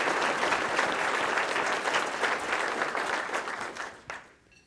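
An audience at a State of the City address breaks into sustained applause that holds steady and then fades out near the end.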